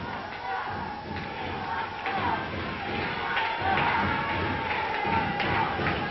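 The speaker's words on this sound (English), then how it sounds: "Now the crowd shouting, "We want Scott."" A pro wrestling crowd chants and shouts for a wrestler during a match, a steady roar of many voices with rhythmic surges, heard at moderate distance.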